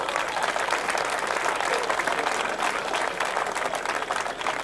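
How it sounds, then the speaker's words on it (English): An audience claps warmly at a sports field dedication, a full, even round of applause from a crowd that carries steadily for several seconds. "So give a round of applause for Mick."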